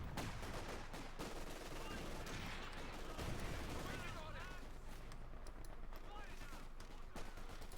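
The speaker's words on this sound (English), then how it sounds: "There you go, Bren guns up for Rzuna." Bren light machine gun fire in Company of Heroes 2, a World War II strategy game, rattling in loud, dense bursts amid a busy battle soundscape of other gunfire and explosions, with a commentator's voice mixed in.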